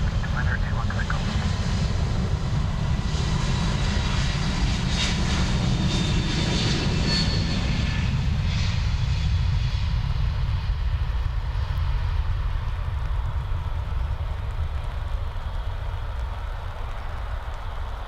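JetBlue jet airliner taking off from Dublin Airport, a continuous loud engine roar that holds throughout and slowly fades and softens toward the end, with radio chatter faintly beneath it.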